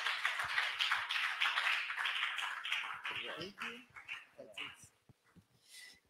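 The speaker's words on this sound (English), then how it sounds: "We can clap for him one more time" A conference audience at a Christian apologetics event claps for a presenter, a dense burst of applause that gradually thins into scattered claps and fades out.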